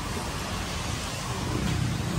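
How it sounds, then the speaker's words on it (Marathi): Steady, dense rainfall hisses continuously, with a low rumbling undertone throughout. "पाऊस झालेला आहे चालू."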